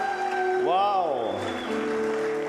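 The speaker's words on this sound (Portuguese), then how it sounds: "Você pode aplaudir mais alto?" A church congregation applauds, a broad wash of clapping that runs throughout while a voice rises and falls over it.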